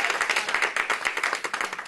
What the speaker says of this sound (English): Clap your hands if that's all right.